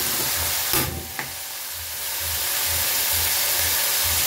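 Garlic sizzling steadily in a small amount of oil in a Filipino home kitchen pan, with a couple of sharp stirring clatters early on, then a continuous close hiss.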